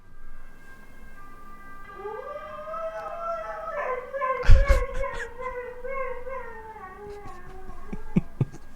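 A dog howls in long rising and falling wails alongside a wavering ambulance siren, with a few sharp thumps partway through.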